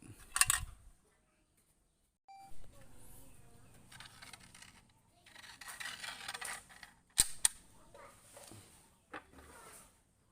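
A multi-purpose fish, bird and rat gun fires at a paint can, giving two sharp close cracks with a mechanical clack between them. Someone talks quietly in the gaps.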